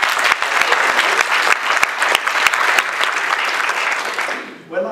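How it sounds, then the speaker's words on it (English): A keynote audience at an integrative health convention in London breaks into sustained, dense clapping that fills the room, dozens of hands at once, tapering off near the end. "So can we just give them applause for this?"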